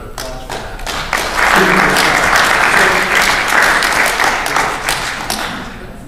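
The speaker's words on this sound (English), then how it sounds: "Another round of applause for that." Audience applause at a SXSW 2009 panel, a crowd clapping loudly and steadily for several seconds after a brief lead-in of scattered claps, fading slightly toward the end.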